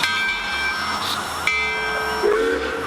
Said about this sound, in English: You also have access to other bells and whistles, like the trains